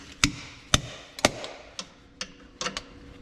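A slide hammer dent puller clanks sharply while pulling a seal out of an 1855 Oliver brake restoration part, about eight separate metallic strikes at uneven intervals, close and fairly quiet.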